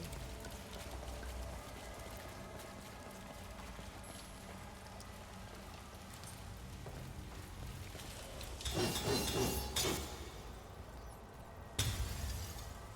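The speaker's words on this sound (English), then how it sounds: "I like all the red crystals, you can just go around and smash." Red crystals are smashed in the dark fantasy action game Soulstice. A quiet game ambience leads into a burst of shattering, then a second sharp break near the end, with no speech.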